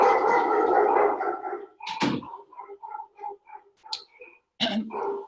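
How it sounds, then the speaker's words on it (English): Dogs give a few short, sharp barks and yelps at close range, scattered irregularly between quieter stretches, with no talk over them. "My dogs are excited about crisis leadership."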